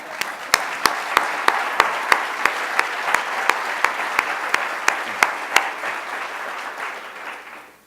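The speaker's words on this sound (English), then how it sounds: "Let's have a big round of applause." Applause at a diversity conference, a large audience clapping steadily and loudly for several seconds before tapering off, with a few sharper claps standing out and no speech over it.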